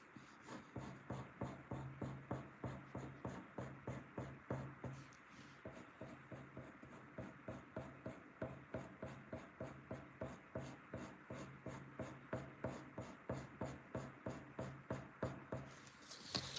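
Pen drawing on paper, a steady run of short scratchy strokes in quick rhythm, close and fairly quiet, continuing for the whole stretch with a brief pause.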